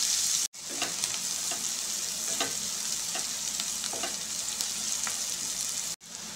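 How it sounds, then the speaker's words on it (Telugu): Carrot pieces frying in a pan for carrot methi pulav, a continuous close sizzle with occasional stirring scrapes and taps, broken by two brief silent cuts, no speech. "క్యారెట్ ముక్కలు మగ్గే వరకు ఉడికించుకుందాం."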